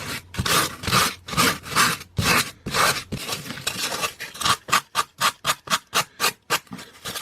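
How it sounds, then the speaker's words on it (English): A foam hill being sanded with coarse, thick sandpaper: loud, close rhythmic rasping strokes, slower at first and then quicker and shorter, with no speech. "Now I'm using quite thick, quite coarse sandpaper"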